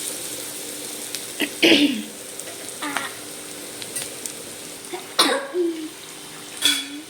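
Sliced onions sizzle steadily in hot oil in a home kitchen pan as they fry to golden, with a few louder clinks and stirring scrapes over a constant crackle.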